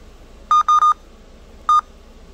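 Four short electronic beeps at the same pitch from a Feniex One controller button, three in quick succession and one after a pause, clean and close with no voices.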